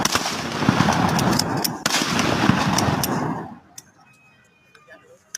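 A loud gunfire sound effect rattles out as a rapid, dense burst for about three and a half seconds, then stops abruptly, leaving only a few faint sporadic ticks.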